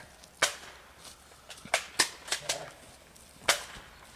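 Sharp popping shots, likely cap guns, fire during an amateur zombie film shoot, a scattered series of about seven snappy cracks with uneven gaps, fairly close and with no talking.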